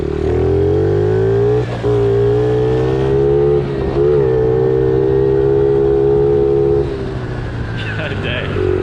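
A small 50cc pit bike on a dirt trail, its engine droning loud and close with a buzzing tone that rises and dips as the throttle is worked.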